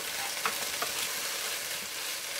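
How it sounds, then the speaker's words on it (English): Onions and green pepper sauté in a pan with a steady, dense sizzle and a couple of soft stirring knocks, close and even throughout. "our onions and green pepper sauteed here"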